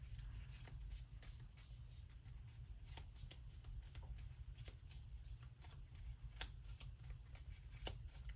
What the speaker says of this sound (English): let me remember to shuffle his deck